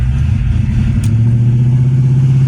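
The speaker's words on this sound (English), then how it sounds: "So just downshifted now." A 1982 Ford LTD engine runs after a downshift, a loud, steady low-frequency drone that settles into a sustained hum, close up with no talk.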